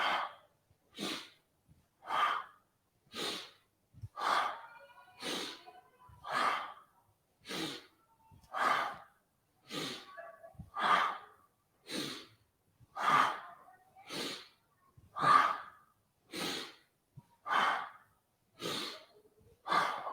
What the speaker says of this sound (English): Nice, powerful breath. Inhale forward, exhale round the spine.